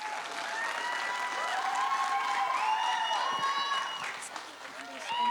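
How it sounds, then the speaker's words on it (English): An audience at the Pasifika Voices Otago speech competition applauds a competitor, with a sustained wash of clapping and some cheering that swells and then tapers off. "everyone give it a round of applause for Fern."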